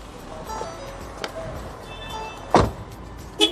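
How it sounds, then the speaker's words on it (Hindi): A 2021 Ford EcoSport's door is opened and then shut, giving a quiet unlatching sound followed by two solid, close thuds over a faint background hum. "मैंने गाड़ी का गेट खोला और गाड़ी के गेट को बंद किया"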